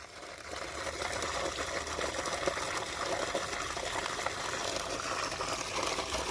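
Water gushes steadily from a newly drilled borewell on a farm in Chhattisgarh, a continuous broadband rushing and splashing that stays loud and even throughout, with no talk over it.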